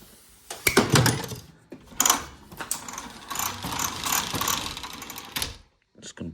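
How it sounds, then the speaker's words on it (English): A hand ratchet chases out bolt threads on an engine block being prepared for a K24 swap in a Mitsubishi Starion, giving rapid clicking bursts with metallic scraping, close and fairly quiet, pausing briefly between strokes. "So we're just gonna clean out the threads here"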